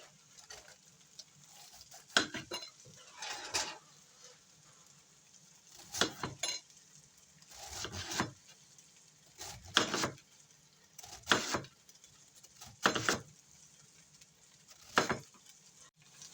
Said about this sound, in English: I have about half a head of iceberg lettuce. I'm just going to chop that up to make a chopped salad.